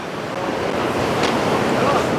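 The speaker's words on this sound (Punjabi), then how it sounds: "ਪਾਣੀ ਬਹੁਤ ਤੇਜ਼ ਆ" A fast-flowing mountain stream at Chandanwari in Kashmir gives a continuous rushing wash of water with some wind, steady and moderately loud.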